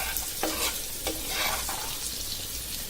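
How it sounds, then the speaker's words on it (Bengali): Onions and green chilies fry steadily in hot oil for a potato-gourd bhuna, a continuous close sizzle with a few brief stirring scrapes and no voices. "আমার পেঁয়াজ আর কাঁচামরিচ একদম ভাজা হয়ে গেছে।"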